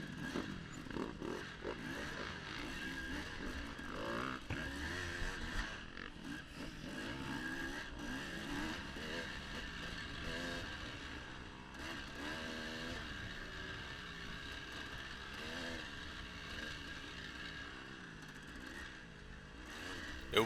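Several dirt bike engines rev and buzz together in a dense, continuous roar at the start of a GP off-road race at Fox Valley, rising and falling as the machines pull away close by.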